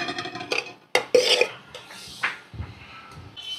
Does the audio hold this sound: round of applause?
no